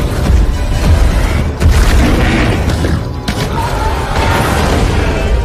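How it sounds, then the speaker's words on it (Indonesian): Repeated gunshots are fired at a T-Rex in a film scene, heavy booming blasts following one another over a loud, dense soundtrack. "Mills pun menembakinya berkali-kali dengan sisa peluru yang dia punya sampai si T-Rex modar dibuatnya"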